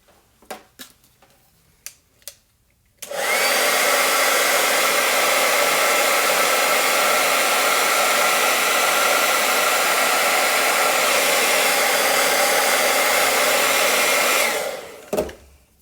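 A hair dryer blows over a fresh coat of chalk paint, a loud, steady roar running for about eleven seconds after a few soft clicks, then cutting off.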